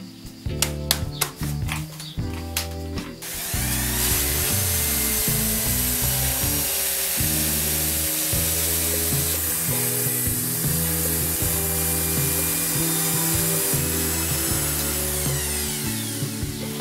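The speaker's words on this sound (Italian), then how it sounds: "Per fare ciò vado a levigare la superficie del legno che voglio stuccare in modo da ottenere lo stesso colore" An orbital sander fitted with a 180 grit disc works across a wooden surface, preceded by a few sharp knocks before a loud, steady whirring drone takes over and runs continuously to the end.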